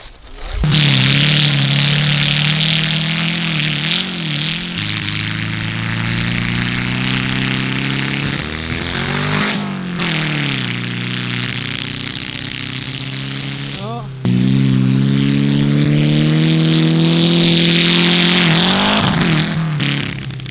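A VW Golf with a damaged engine, fouled with frying fat, is driven hard around a course, its engine droning loud and close, revving up and dropping through gear changes, a rough, strained tone throughout.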